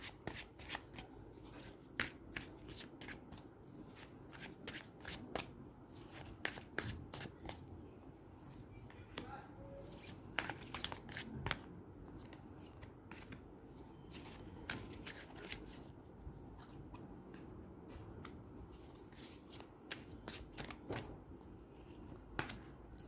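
Tarot cards are shuffled and drawn by hand, with many crisp riffling snaps and soft flicks in irregular bursts, quiet and close, spread over a long stretch with no talk.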